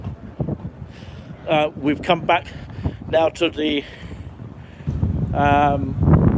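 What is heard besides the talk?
wind noise on microphone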